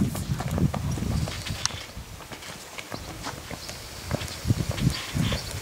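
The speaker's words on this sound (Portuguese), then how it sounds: "Tá olha lá, vai fazer galope, olha lá." A purebred Lusitano horse's hooves pound the ground in an uneven, rhythmic gallop, close and clear, with a few soft rustles between the footfalls.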